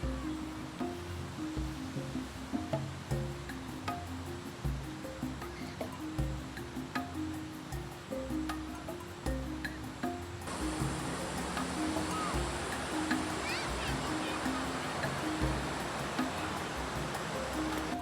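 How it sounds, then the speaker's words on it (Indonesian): River water flows steadily over large boulders below a rocky bank on a riverside solo camping hike, a constant rushing wash that swells louder partway through, with faint scattered taps suggesting footsteps. "langkah kaki dan aliran air yang terus bergerak"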